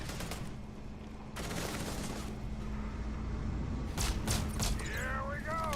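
Bursts of gunfire rattle in Starfield combat, sharp volleys rising over a low steady hum, with someone speaking now and then.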